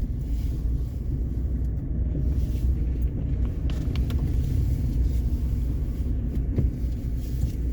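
A car pulls away and drives along snowy streets, a low, continuous engine rumble heard from inside with steady road noise, faint wind and a few small knocks.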